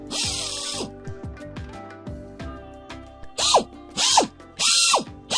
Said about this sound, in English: He got me this electric drill and an electric detail sander.